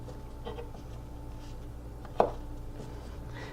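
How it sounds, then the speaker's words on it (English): A knife slices the root end off garlic cloves on a board: one sharp, close cut in the middle, set against a steady low kitchen hum. "to process this garlic, to get it ready, I'm going to simply cut the scab off where it was attached."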